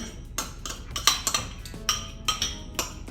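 A spoon scraping mayonnaise into a bowl for homemade Caesar dressing, with a run of sharp, close clinks and taps of utensil on bowl at an uneven rhythm, no talk.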